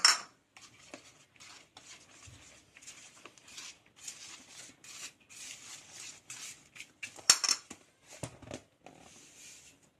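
Egg white and coconut stirred together in a bowl, with a steady run of light clinking and scraping from a spoon against the bowl and occasional sharper knocks.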